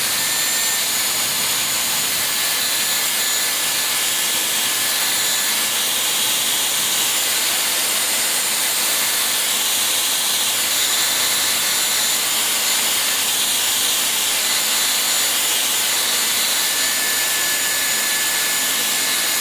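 A Dyson Airwrap Complete hair styler blows a loud, constant rushing hiss of air over thick, curly hair, unbroken and close throughout with no talking.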